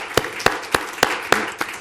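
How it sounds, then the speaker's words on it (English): Audience applause at a health and wellness event, heard as six or seven evenly spaced, loud claps that sound more like a single person clapping than a full crowd. "You all should be clapping for yourself"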